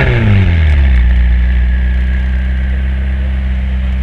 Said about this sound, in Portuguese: ele vai dar partida no carro